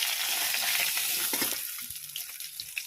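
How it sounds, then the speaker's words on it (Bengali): Bhola fish frying in hot oil gives a steady, dense sizzle and crackle that eases toward the end, broken by a few light clinks, with no talking. "মাছটা হয়ে গেছে, এবার তুলে নেবো।"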